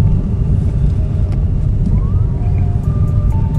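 A 2016 Mazda 2 Skyactiv GT on a test drive pulls away under throttle in its normal mode, giving a loud, steady engine drone and road rumble that holds throughout with no talking.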